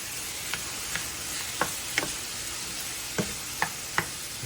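Okra and tomatoes sizzle softly in a pan after about two cups of tomatoes and liquid go in, a low steady hiss with a few light clicks of stirring.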